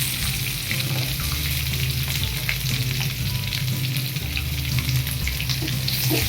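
Chopped onions sauté in hot oil in a pan, giving a steady, dense sizzle with soft stirring scrapes throughout, close and loud, with no talk.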